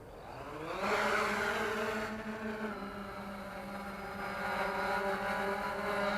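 A 3DR Solo quadcopter's motors spin up and run steadily in flight after an auto takeoff, a loud, close electric whine with rising then stable tones and a constant rushing drone, no voices.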